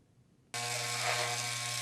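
After a brief quiet moment, an electric hair clipper fitted with a number 2 guard switches on. It buzzes loud and steady at close range while trimming a beard.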